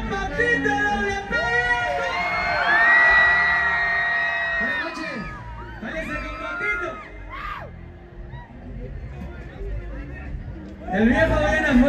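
A concert crowd at the Arre Fest 2023 festival in Mexico City shouts, whoops and cheers loudly in waves, with yells rising and falling across the whole stretch and a voice over a PA woven in.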